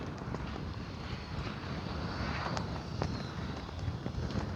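Wind buffets the microphone in a steady, rough roar during RC jet flying practice landings, with faint scattered ticks beneath and no voices.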